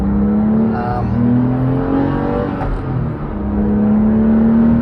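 Porsche 911 997 Carrera with a six-speed manual accelerating from inside the cabin, engine note climbing steadily in pitch, easing once and then pulling up again.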